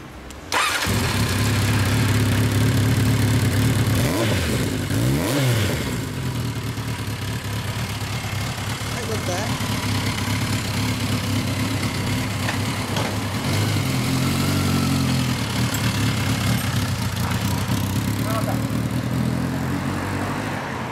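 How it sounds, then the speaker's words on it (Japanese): A motorcycle engine starts up and idles with a steady low rumble, with a couple of brief revs early on, close by and loud throughout. "エンジンを聞かせてこれ"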